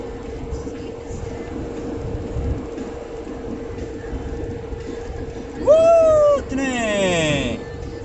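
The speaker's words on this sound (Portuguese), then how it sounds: "Trem!" A train rumbles past beside a highway with a steady low drone, then a loud horn blast near the end, its tone bending downward as it goes by.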